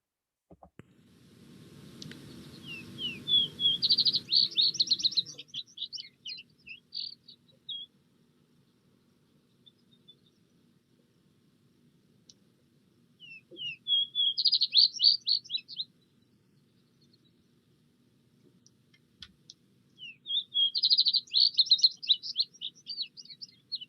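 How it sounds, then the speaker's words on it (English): Vesper sparrow singing three separate songs, each a bright series of sweet notes and trills, spaced by long quiet pauses, with a low rustle at the start. "the song of the plainly colored vesper sparrow is somewhat similar to the song of the song sparrow of wetter areas"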